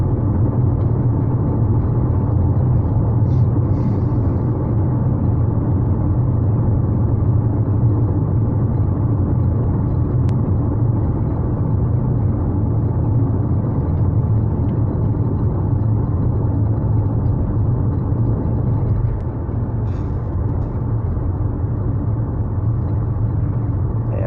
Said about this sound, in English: This road is so rough here. So much noise in the car.